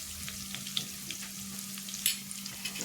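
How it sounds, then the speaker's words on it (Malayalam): Onions with ginger and garlic sauté in a pan for a Kottayam-style Kerala sardine curry, giving a steady close sizzle with light stirring scrapes and no voices. "സവാളയൊക്കെ ഏകദേശം നല്ലവണ്ണം ഒന്ന് വഴറ്റിയെടുക്കുക"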